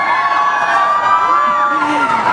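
Crowd cheering and shrill whooping for cricketer Virat Kohli at a watch launch event, a sustained high-pitched roar of voices with a few rising yells, close and loud.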